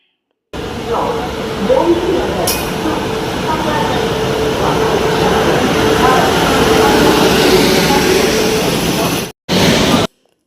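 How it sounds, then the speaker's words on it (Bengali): An overnight train to Varanasi pulls in at Ayodhya station, its steady rumbling wash and roar filling the platform for about nine seconds before a brief break, with a sharp clank near the start and faint platform voices underneath. "ওই যে দূরে দেখা যাচ্ছে লাইট, ওর আমাদের ট্রেন আসতে শুরু করেছে।"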